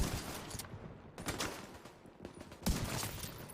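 Gunfire bursts in The Division 2 video game, with several loud volleys of shots spread across a few seconds over a steady background.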